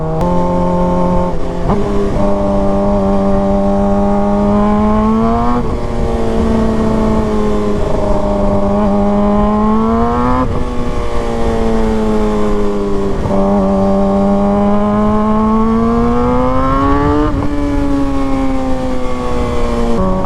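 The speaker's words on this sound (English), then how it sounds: "I just love the sound of the shifts" Loud Suzuki GSX-R sport motorcycles rev hard through the gears on the street. Their engine pitch climbs steadily, then drops sharply at each crisp shift, repeating several times over a continuous, close roar.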